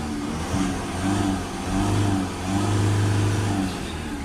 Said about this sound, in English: Just going to give that a couple of revs